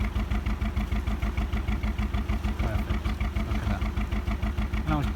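A warmed-up narrowboat engine runs smoothly in a steady, rhythmic low chug, close and even, with faint voices briefly underneath.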